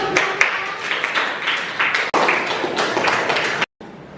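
A classroom of students claps together in a dense, lively burst that runs for several seconds, breaks off briefly, then resumes before cutting out.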